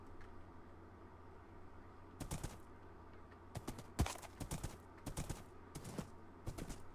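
Horse hooves in the video game Township Tales clip-clop in short irregular clusters of sharp knocks over a faint steady background hum, moderately close and without talk.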